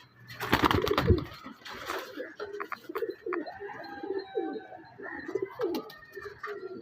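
Pigeons kept for sale coo repeatedly nearby, soft throaty rolling calls in overlapping bursts, with a loud flutter of wings at the start.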